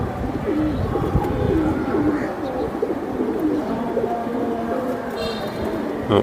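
Silver giribaj pigeons coo continuously at close range, their low rolling calls layered over a noisy background with faint voices.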